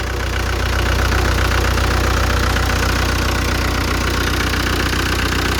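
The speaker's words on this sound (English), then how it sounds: "So it's 4-cylinder diesel engine." Four-cylinder diesel engine of a 1984 Ford Transit light truck running steadily at idle, a loud, close, continuous clattering knock with no talk over it.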